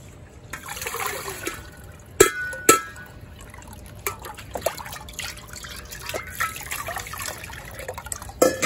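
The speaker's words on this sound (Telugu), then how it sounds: "ఇప్పుడు మనం ఈ లిక్విడ్ ఫర్టిలైజర్ని మొక్కలకి ఇద్దాం" Liquid fertilizer diluted one to five with water is poured onto rose plants, a soft trickling and dripping with scattered small splashes and a few sharper drops, close by and quiet, with no talking.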